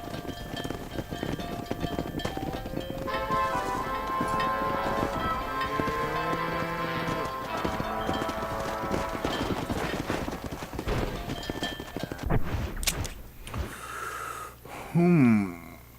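Horse hooves clopping at a gallop in the Red Dead Redemption video game, a steady rapid rhythm running under game music and effects for most of the stretch, fading near the end behind a brief louder sound.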